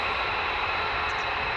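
F-22 fighter jet flying overhead, a steady broadband engine roar with a strong hiss that holds at an even, loud level throughout, no voices.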